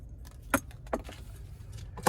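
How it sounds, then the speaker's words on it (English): A key fob for a 2024 Hyundai Kona SE jangles against other keys in a few close, bright metallic shakes over a low background hum. "Here's the key fob with remote start."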